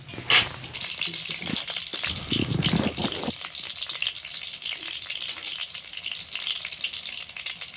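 Green chillies frying in a hot kadhai on a chulha, giving a steady soft sizzle with a brief louder burst of crackling early on, close by and with no talking.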